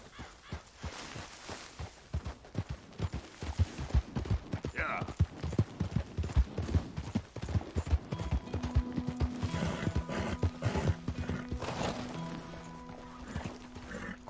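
Horse hooves in Red Dead Redemption 2 give a steady clip-clop walking rhythm, close and moderately loud, with a brief whinny and some in-game sounds mixed in.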